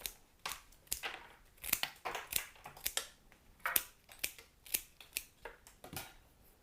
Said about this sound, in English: Give the stems a good snip.